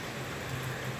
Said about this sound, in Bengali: অঝোর ধারায় বৃষ্টি হচ্ছে।